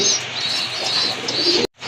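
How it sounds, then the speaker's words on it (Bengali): Giribaz pigeons from Rajshahi coo and warble in a low, continuous, close murmur that cuts off abruptly at the end. "আরেক জোড়া কবুতর মাশাল্লাহ এই যে দেখেন গিরিবাজ কবুতর রাজশাহী গিরিবাজ"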